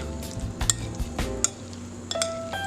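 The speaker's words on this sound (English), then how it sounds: "Gently toss everything together until well coated." Tossing sautéed tofu, onion rings and vegetables in a creamy dressing, heard as soft close stirring and scraping in a bowl with a few light clinks of utensils.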